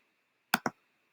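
Two quick clicks from a computer keyboard, close and crisp, as a word is typed into a Flutter code editor with no one speaking.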